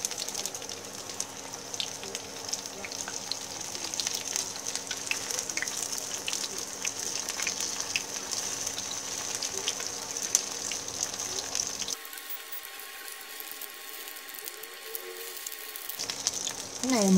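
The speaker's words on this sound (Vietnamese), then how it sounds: "Cái này mình đang chiên" Batter for central Vietnamese crispy pancakes fries in a pan with a continuous, moderately loud sizzle and hiss, shifting in tone partway through.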